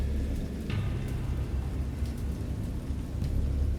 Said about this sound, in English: I know that I heard pearls of thunder and other tones which nature utters only